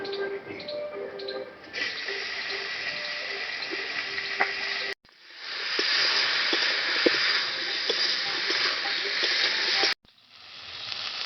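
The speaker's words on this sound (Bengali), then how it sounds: "এবারে ওই তেলে আমি ফুলকপিগুলো ভেজে নেবো একটু।" Cauliflower pieces frying in hot oil in a kadai, a steady bright sizzle and hiss that runs for several seconds, drops out briefly twice and then resumes just as strongly.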